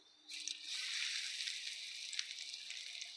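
Mushrooms dropped into bubbling hot frying oil set off a sudden, steady sizzle that holds at an even, moderately quiet level without talk.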